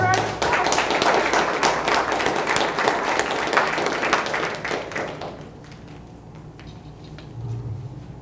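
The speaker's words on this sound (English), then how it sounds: "Please give her a round of applause" At a town library poetry open mic night, the audience claps warmly for a poet taking the stage; the applause is full for about five seconds, then thins and fades to scattered quiet claps.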